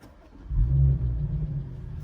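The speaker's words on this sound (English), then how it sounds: "With that rumble of that exhaust" A 2019 Audi S5 starts up from inside the cabin, its engine catching after a brief quiet moment and settling into a deep, steady exhaust rumble, close and fairly loud.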